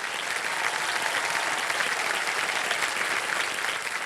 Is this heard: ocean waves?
no